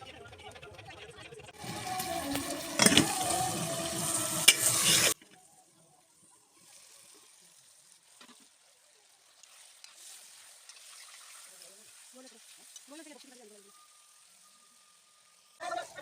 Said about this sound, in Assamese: এইদৰে লৰাই লৰাই অলপ সময় ভাজি লওঁ